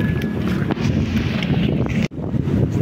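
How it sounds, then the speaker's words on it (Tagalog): Strong wind gusts by an outdoor pool at a resort camp, a loud continuous roar of wind buffeting the microphone with a sharp brief dropout near the end. "Lakas ang hangin o."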